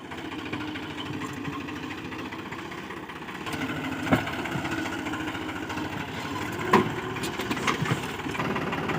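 A farm tractor with a trolley idles in a field during wheat sowing, a steady low mechanical hum and rattle running throughout at moderate distance, with occasional small knocks.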